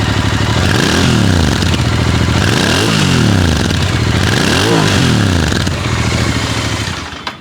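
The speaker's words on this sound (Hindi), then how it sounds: "तो ये इंटरसेप्टर का एग्जॉस्ट था।" A Royal Enfield Interceptor 650 twin-cylinder motorcycle revs at close range, its exhaust rising and falling through three distinct throttle blips over a loud, steady idle, then cutting off.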